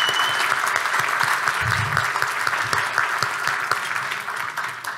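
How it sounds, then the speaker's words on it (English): Audience at a fundraiser breakfast applauds in a steady, even burst of clapping that holds for several seconds before easing slightly toward the end, with a faint voice briefly heard beneath it. "Yes, I think viewers should applaud."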